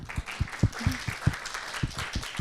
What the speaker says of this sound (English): a big round of applause to you and me